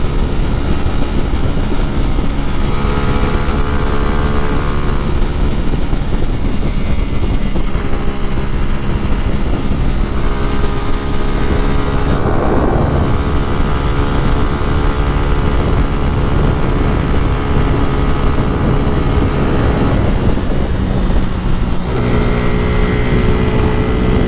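A 150cc motorcycle with its catalytic converter removed revs hard and accelerates, the loud raspy engine note climbing in pitch through several gear pulls, close and continuous for the whole stretch.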